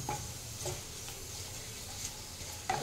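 A papad fries in hot oil in a home kitchen, giving a steady, fairly quiet sizzle broken by a few soft stirring taps and a clink near the end.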